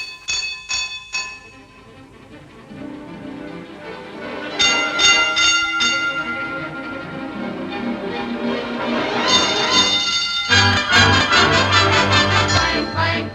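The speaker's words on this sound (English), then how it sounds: "Clang, clang, clang went the trolley. Ding, ding, ding went the bell." Trolley car bell at a trolley museum, ringing in bright metallic clangs: quick strikes at the start, then longer ringing bursts that build with a rumbling undercurrent, loud and fairly close, with no talk.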